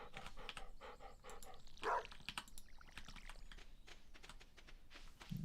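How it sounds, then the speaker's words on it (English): Dog barking in a Stardew Valley game, several short quick barks in a busy run against a quiet, faint background. "Doggy's going wild."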